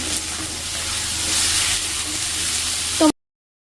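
Potato, tomato, ginger paste, cumin powder and chili powder frying in oil, giving a steady, loud, broad sizzling hiss that runs without a break and stops abruptly, with no talk.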